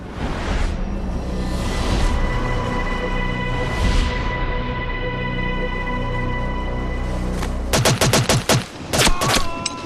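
Gunfire erupts during a commando raid: a sustained roar of fusillade gives way to sharp, rapid bursts of close shots near the end, with no voices heard.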